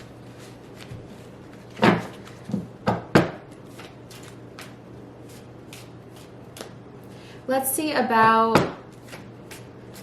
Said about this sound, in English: I'm getting better at shuffling this way.